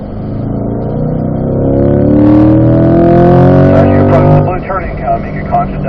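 A Chevrolet C8 Corvette accelerates on a race track, its engine note climbing steadily in rising harmonics at close range, then dropping back with a throttle lift near the end.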